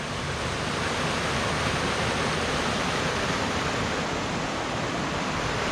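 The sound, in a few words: small waterfall on a creek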